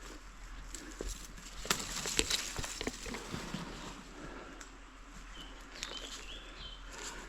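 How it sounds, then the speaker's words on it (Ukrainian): Faint birdsong in a damp Beskid mountain forest in June, with thin, scattered chirps from a distance over quiet rustling and footsteps. "Пташки співають."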